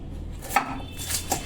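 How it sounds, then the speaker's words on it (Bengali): A knife chops onions on a cutting board while a beef tripe and potato curry is being prepared, with a few close, crisp chops in an uneven rhythm. "এবার আমি পেঁয়াজগুলো কেটে নেব।"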